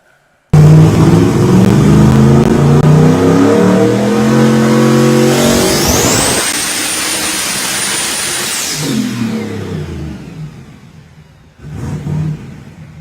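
A turbocharged car revs hard on a big hub dyno in Lexington, a loud close engine roar climbing through the gears, then a high turbo whistle and a blow-off as the pull ends and the engine drops back, with a short rev at the end.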